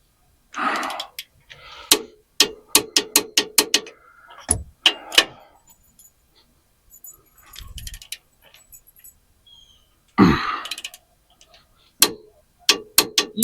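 A torque wrench clicks sharply and repeatedly while tightening bolts on a Titan M226 axle swap in a 2nd gen Frontier. The clicks come in quick bursts with pauses between them, and there are occasional breaths and grunts.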